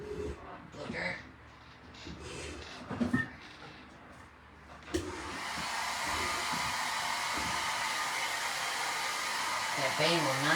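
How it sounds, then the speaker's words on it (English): A hair dryer blows hot air onto a foam sheet shaped into a fake Halloween lollipop, starting abruptly midway and roaring steadily and loudly close by, after a stretch of speech. "I'm going to hit this real quick with a blow dryer"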